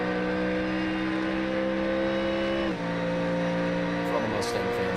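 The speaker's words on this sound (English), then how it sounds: "So now we'll get full force of V8 exhaust note." A Ford Mustang GT3 V8 exhaust in an iRacing race roars steadily at high revs with a brief shift dip midway, loud and continuous with no talk over it.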